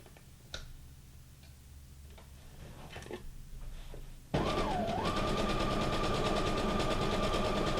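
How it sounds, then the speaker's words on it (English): Sewing machine stitching fabric for a junk journal, a steady rapid mechanical ticking that starts abruptly partway through and runs loud and continuous to the end, after quieter handling sounds. "just stitching the fabric"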